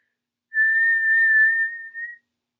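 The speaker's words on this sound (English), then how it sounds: "we're going to try and either whistle, or if you can't whistle, pretend to whistle" A single steady whistled tone from a person shaping a clarinet embouchure, held clear and close for about a second and a half, with a brief second note right after.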